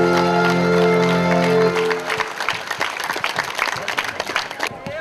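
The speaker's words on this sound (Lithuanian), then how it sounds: "Taigi plojimai mums visiems dar kartelį!" Applause breaks out at a party rally gathering, following a sustained musical tone, then a crowd's scattered, fairly loud clapping continues irregularly with a few shouts.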